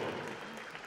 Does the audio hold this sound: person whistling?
no